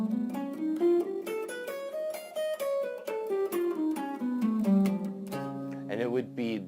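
A guitar plays a whole tone scale on one fretboard pattern, single notes stepping steadily up and back down at moderate volume, ending on a held note with vibrato; no talking.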